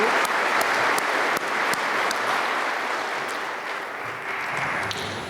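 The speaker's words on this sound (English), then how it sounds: "Would you please join me in a round of applause for these individuals?" An audience claps continuously at a commencement ceremony, thick and sustained, easing off only slightly toward the end.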